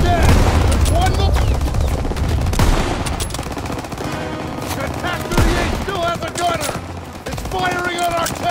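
Dense, loud bursts of machine-gun and rifle fire from the Operation Cobra battle in the World War II shooter Call of Duty: World War II, with rapid volleys throughout and shouted voices and background score mixed in.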